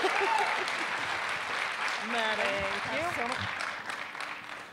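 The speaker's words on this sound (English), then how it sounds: "Please, round of applause for the huge brains that are about to come out on stage, Jim and Louise Gunderson" Audience at a talk on robots and AI applauds as speakers come on stage, a steady wash of clapping under background voices and some tonal sounds, moderately quiet throughout.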